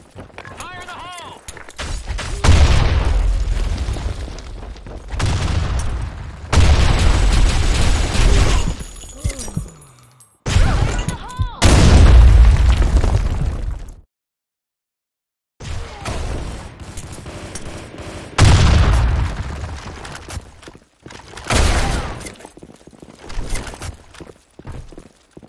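Grenade explosions and gunfire in the Blackshot online shooter game come as dense, loud bursts of rapid shots and booms, separated by short pauses and one full silent gap.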